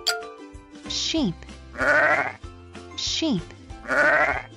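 A sheep bleats in two clear rounds, each a wavering baa followed by a longer loud bleat, close and prominent, with a voice naming the animal in a children's farm-animal learning game.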